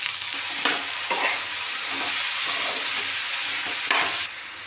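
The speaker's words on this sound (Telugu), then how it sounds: "అదే కళాయిలో బీరకాయ ముక్కలు టమాటా ముక్కలు వేసినాక కొంచెం ఉప్పు వేసుకుందామండి" Ridge gourd and tomato pieces frying in a pan, with steady sizzling and repeated scraping stirs, close and fairly loud with no talk.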